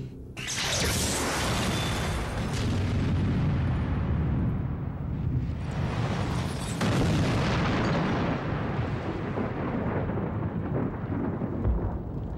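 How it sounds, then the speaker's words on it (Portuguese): A fuel vapor explosion in a laboratory test, ignited by a 75 millijoule spark, breaks out as a loud, sudden roaring blast followed by a long rumbling whoosh and a second surge of burning roar. "75 milijoules, a quantia de energia que causou a explosão"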